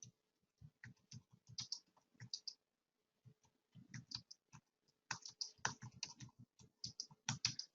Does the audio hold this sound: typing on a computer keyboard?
yes